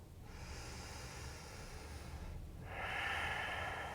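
A deep breath during a yoga pose: a long, airy inhale followed by a stronger, rushing exhale, close to the microphone and fairly soft, with no speech.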